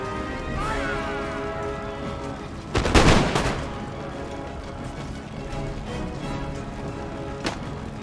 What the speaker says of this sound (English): That guy with his pistol having a go.